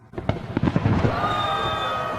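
A burst of fireworks crackles and booms in rapid popping bursts that merge into a sustained roaring fizz, loud and dense.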